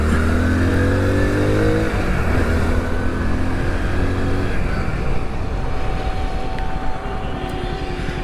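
A Hero Passion 100cc commuter motorcycle with disc brake rides along steadily, its engine droning loud and continuous with a gear-change pitch shift early on and constant road and wind rush throughout.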